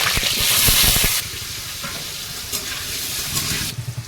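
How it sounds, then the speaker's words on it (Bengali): Potatoes dropped into hot oil in a wok burst into a loud, close sizzle that settles into steady frying hiss, with clattering stirring thumps near the end and no talk. "তেলের মধ্যে এখন আলুগুলো দেব"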